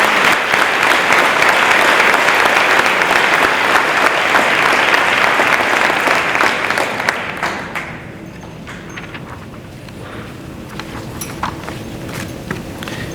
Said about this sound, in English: A big round of applause for these future seniors.